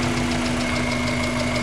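A car engine with a misfire from a faulty spark plug wire, idling close by with a steady hum and a faint irregular knocking pulse throughout, no voices.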